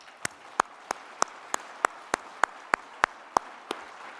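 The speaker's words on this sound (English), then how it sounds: "Let's give them a round of applause" Slow, evenly spaced claps ring out one by one, about three per second, over a low steady room hiss at a speech event on Korean reunification, with no voices.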